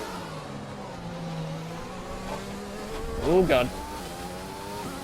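An F1 2020 race car with a Red Bull pit crew accelerating out of the pits to build tire heat, the engine note rising and falling through gear changes with a brief louder surge, while a man mutters under it.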